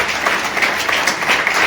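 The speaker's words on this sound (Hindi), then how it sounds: "एक बार ये बहन के लिए डबल ताली बजाइए" A church congregation claps for a sister, loud dense applause filling the room throughout, with no one speaking over it.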